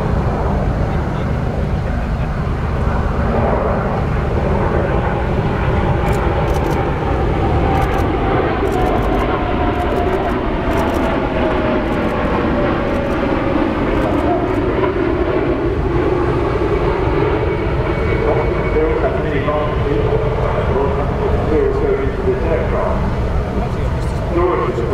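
An aircraft flies at the Farnborough Airshow 2018 as its landing gear lowers, a loud continuous engine roar with slowly shifting pitch sustained throughout, while a commentator talks over it.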